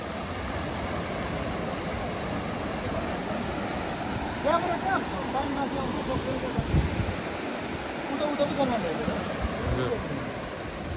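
Continuous wash of sea waves onto a Devon beach with wind buffeting the microphone, with a few faint voices briefly audible in the middle.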